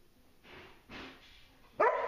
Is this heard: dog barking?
yes